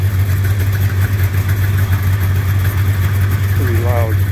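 A 1996 snowmobile engine runs loudly and steadily at close range with a deep droning hum, and a voice briefly sounds over it near the end.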